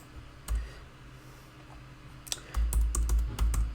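Keys clatter on a computer keyboard as code is written, a lone tap early on and then a brisk run of clustered clicks in the latter half, close and fairly clear against quiet room hiss.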